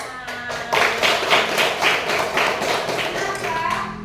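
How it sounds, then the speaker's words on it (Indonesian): Children in a school classroom clap their hands together in a quick, rhythmic burst of repeated claps, fairly close and lively, with some voices mixed in. "tepuk tangan"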